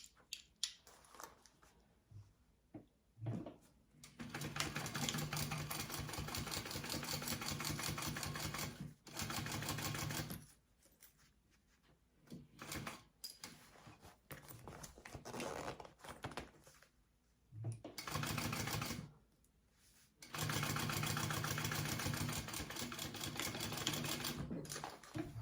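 A sewing machine stitches a quarter-inch seam on a fabric wallet, running in several sustained bursts separated by short pauses, close and steady with no talking.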